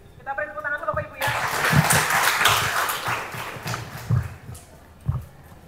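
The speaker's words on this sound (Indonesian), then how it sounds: "Kita beri tepuk tangan dulu Bapak Ibu ya" Audience applause at a computational thinking workshop session, starting after a voice speaks, then uneven clapping with some louder individual claps that thins out.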